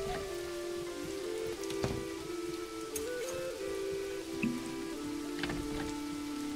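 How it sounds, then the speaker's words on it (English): Steady rain falls in the medieval village-building game Manor Lords, a continuous soft patter with scattered drips, accompanied by quiet sustained musical tones throughout. "Rain is real."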